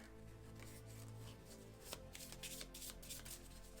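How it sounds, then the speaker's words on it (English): Playing cards being shuffled by hand, faint riffling and soft rapid flicks of cardboard, quiet and close, with no talking. "we shuffle all this together"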